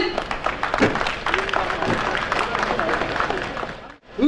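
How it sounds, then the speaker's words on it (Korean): A rally crowd greets a speaker, a local county councillor, with sustained clapping and cheering that stays dense and loud for about four seconds before cutting out abruptly. "최규호 의원을 박수로 맞이해 주십시오, 여러분"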